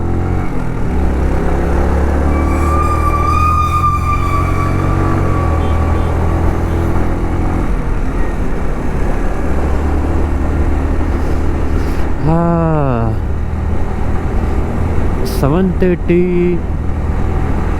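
Engines of lorries and other traffic drone steadily on the hairpin bends of the Thimbam hill-station road between Mysuru and Coimbatore, with a passing vehicle and horn-like tones, and a person talks over it.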